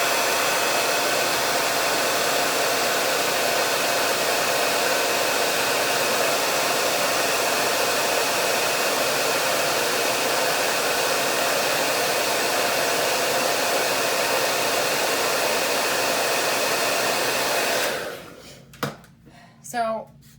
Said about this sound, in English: if you put the blow dryer on it